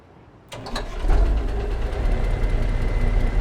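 A modded truck engine in a trucking video game starts up after a quiet moment, then settles into a steady low rumbling idle with a faint whine above it.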